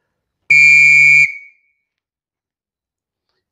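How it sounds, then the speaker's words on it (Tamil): A scout whistle gives one long, loud, steady blast of under a second, with a bright sustained tone that rings off briefly, followed by silence. "லாங் பிளாஸ்ட் எப்படி ஊதணுங்கிறத பார்ப்போம்"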